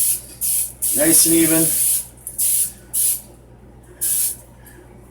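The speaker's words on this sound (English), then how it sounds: "You can take some cooking spray and just coat the pan" Cooking spray hisses onto a pizza pan in several short, loud bursts, with a voice briefly talking over the spraying.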